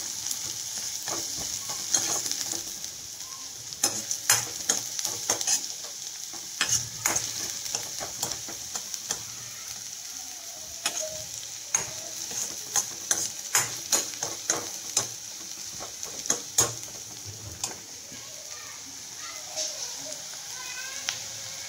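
Onion and green chili are sautéed in a pan for cabbage Manchurian, giving a soft continuous sizzle punctuated by frequent scraping and tapping stirs, close but low in level, with a voice speaking at times.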